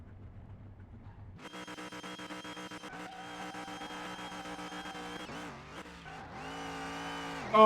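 A drag racer's engine revs hard with tires spinning out in Car Mechanic Simulator 2021, a loud sustained harmonic roar that kicks in abruptly, wavers and dips, then climbs again.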